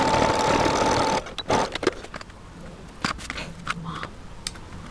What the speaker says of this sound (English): One straight sewing stitch should do the job.